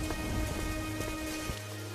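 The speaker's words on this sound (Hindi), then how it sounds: "उस तेज बारिश में चलते हैं" Heavy rain pours steadily at night, a dense continuous hiss with a few heavier drops and low rumbles, loud and unbroken throughout.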